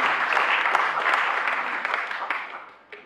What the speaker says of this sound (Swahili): Tupigie makofi, tupigie makofi